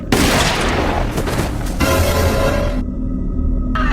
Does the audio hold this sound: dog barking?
no